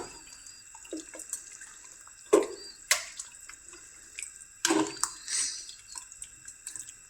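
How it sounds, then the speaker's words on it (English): Tap water running and splashing into a cooking pot for a bean soup made with onions, in a few separate bursts with drips between them, close up and fairly clear, with no talking. "We need water because that is what we are going to use to cook our beans."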